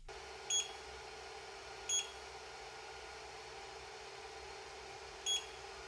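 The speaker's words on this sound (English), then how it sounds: "the LCD screen tends to beep whenever you press a button or enter a menu point" Three short electronic beeps from the LCD control screen of a Creality Ender-5 S1 3D printer as its buttons are pressed, spaced irregularly over a steady fan hum with no talking.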